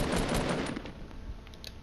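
Gunfire from the Fortnite battle royale video game, a dense burst of rapid shots at the start that fades into a quieter rattling tail, with no talking over it.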